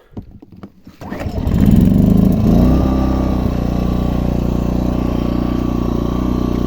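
A small 2 kW inverter generator engine sputters a few times, then catches and settles into a steady, loud running hum that continues without any talking.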